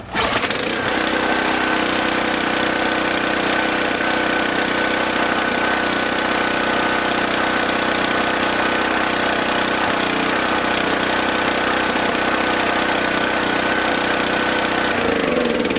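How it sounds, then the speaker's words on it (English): A small gasoline engine, pull-started without choke after sitting on treated fuel, catches right away and runs steadily loud and rough for the whole stretch, a buzzing, uneven drone that holds close with no talk over it. "Running kind of crappy, but it still started like 4 pulls."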